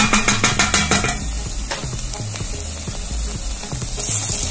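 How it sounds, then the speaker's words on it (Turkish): Steady sizzling from a hot pan with tomatoes being stirred and fried, scraping and clinking of a utensil at first, loud and close. "Domatesin kavurdu çok güzel."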